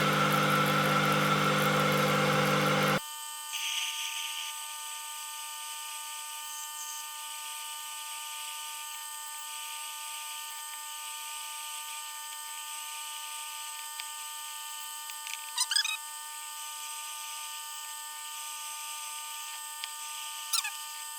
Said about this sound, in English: I don't want to break the drill bit or make an off-centre hole